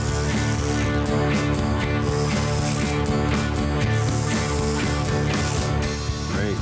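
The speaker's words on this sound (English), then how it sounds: "Now we'll need a smaller socket for these upper ones." A socket ratchet clicks rapidly and continuously while tightening timing cover bolts on a 440 Six Pack engine, the close metallic pawl chatter running in quick bursts with no pauses for talk.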